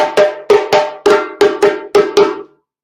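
Sharp drum strikes ring out alone in a quick syncopated pattern, eight hits grouped in pairs with decaying resonance between them.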